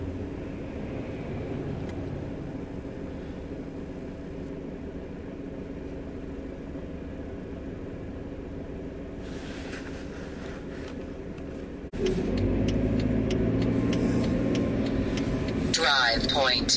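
Inside a car driving through the city and onto the highway, a steady low engine and road hum continues throughout, growing louder and rougher in the last few seconds with added rattling noise.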